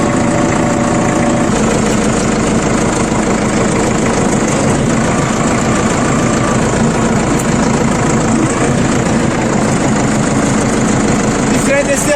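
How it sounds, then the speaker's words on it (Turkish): A 2021 fully mechanical Solis S90 tractor engine chugs loudly and steadily while the tractor moves slowly, with a constant low throb throughout. "Traktörümüz ilerliyor."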